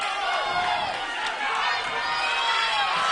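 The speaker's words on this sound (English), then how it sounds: "Now the crowd getting into it" A wrestling match crowd in a school gym cheers and shouts in a dense, steady roar that fills the whole moment, close and loud.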